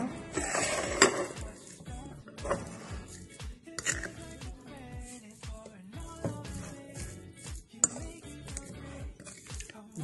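A spoon works a mashed potato croquette mixture with egg in a bowl, repeated clinks and scrapes against the bowl in an uneven steady rhythm, close by.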